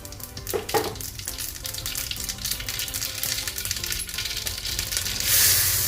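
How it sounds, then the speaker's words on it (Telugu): Cumin and mustard seeds hitting hot oil for a ragi vegetable parotha, a bright crackling sizzle with sharp pops and spits, loud and close, swelling to a harsher hiss at the end; no voices. "నూనె వేడెక్కిన తర్వాత కొంచెం పోపు దినుసులు,"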